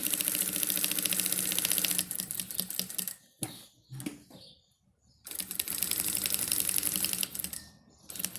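A sewing machine stitching a Maia wallet, a fast steady mechanical rattle of needle strokes running loud and close, stopping for a few quiet seconds of handling, then resuming the rapid stitching before briefly pausing again.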